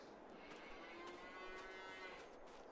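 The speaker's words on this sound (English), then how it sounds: "Yes, moo." Cattle in a farm pasture near Alma, Missouri, lowing faintly and far off, with long, drawn-out moos under a steady outdoor hiss.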